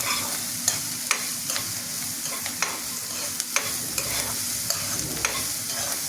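Chili, ginger and garlic paste sautés in a pan with a steady sizzle, while a spoon scrapes and stirs in sharp, irregular clicks every half second or so, close and clear with no talking.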